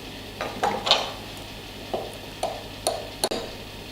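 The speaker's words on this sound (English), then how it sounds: "I'm going to mix that with half a cup of boiling water to create like a paste." Dark cocoa powder being stirred with boiling water into a paste, heard as a series of close, short scraping and clinking strokes of a utensil against a bowl, spaced irregularly with brief pauses.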